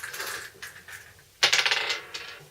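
Dice roll during a board game: a soft rattle, then a loud, close clattering tumble that bounces and settles over about a second.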